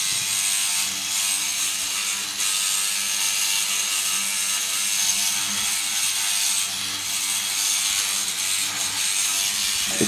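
A Rubbermaid power scrubber scrubbing grime, a steady buzzing, rattling whir that runs continuously at moderate level with small fluctuations, no talking.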